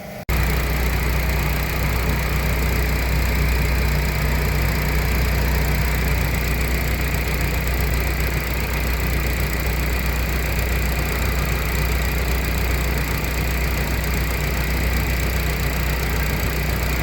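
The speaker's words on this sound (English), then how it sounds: "Air compressor just kicked on." Air compressor running steadily in a garage, a loud constant motor drone with a low hum and a bright hiss on top, unbroken and close, with no one talking over it.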